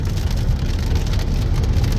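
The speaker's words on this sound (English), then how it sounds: "But in this instance, that's rain, by the way." Steady rain falls in a dense, continuous hiss and patter, loud and close, with a low rumbling undertone and no voices.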